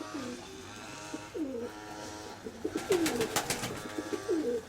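Soft, repeated pigeon coos roll out in a low murmuring rhythm, fairly close, with some rustling and a few clicks near the end.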